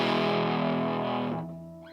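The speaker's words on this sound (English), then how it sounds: "Let's try the Manticore overdrive," An ESP E-II Horizon-II electric guitar with passive EMG humbucker pickups plays through a Manticore overdrive pedal. A thick, distorted chord rings loud and close, then decays over about two seconds.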